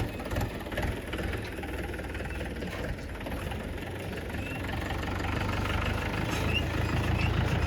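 A tractor engine runs steadily and fairly close, a continuous low rumble with a knocking edge that holds throughout and rises slightly toward the end, with no talk over it.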